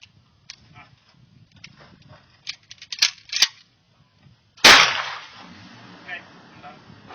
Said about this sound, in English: he wants to be on film shooting it, the Remington 870